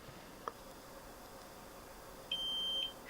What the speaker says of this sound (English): So it has beeped at the first stakeout point